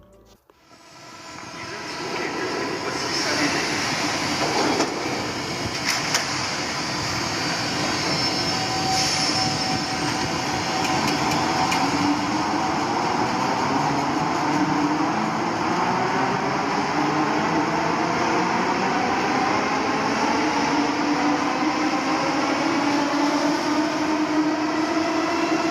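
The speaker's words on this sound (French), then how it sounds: "Avec son magnifique son, le meilleur son des trains du réseau RER qui a pu exister." An MS61 RER electric train with eight Oerlikon HMW48 traction motors accelerates. A rising motor whine climbs steadily in pitch over a constant rolling rumble, with faint wheel squeal, loud and close throughout.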